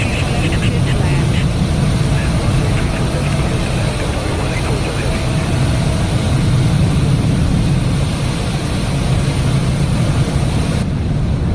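Boeing 787-9 landing in Microsoft Flight Simulator, a steady loud low engine and airflow roar that holds throughout, with chatter mixed in above it.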